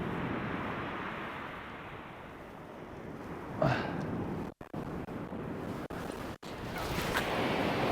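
Wind buffeting the microphone on a shingle beach, a rough continuous roar with surf washing behind it and a few brief dropouts and bumps, no speech.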